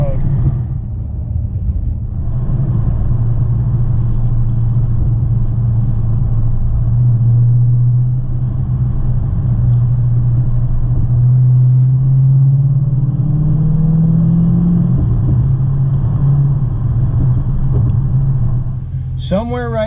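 2020 Dodge Challenger Scat Pack Widebody pulling through tight turns, a deep engine drone rising and falling in pitch as it accelerates, heard close from inside the car.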